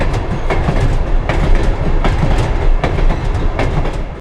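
Riding inside modified stock cars, once used for livestock, on a heritage passenger train, with loud rumbling wheels and a steady clickety-clack over rail joints, close and continuous with no voices.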